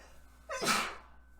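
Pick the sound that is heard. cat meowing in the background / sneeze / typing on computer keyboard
sneeze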